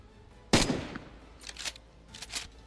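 Gunfire in the video game DayZ, a sharp close shot followed by a few quieter, more distant cracks over a faint background.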